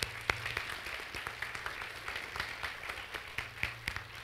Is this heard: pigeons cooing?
no